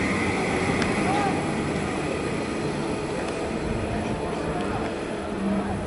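An elevated rail train passes in a continuous broad rumble with a steady mechanical roar, fairly loud and unbroken throughout, with faint higher squeals riding on top.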